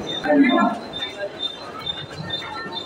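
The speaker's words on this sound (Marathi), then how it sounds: "फायनली ट्रेन लावलेली असा, स्लो असा, पण काय करणार" A slow local train at Thane station in Mumbai rumbles steadily with rail and wheel noise, fairly close, while a person talks over it.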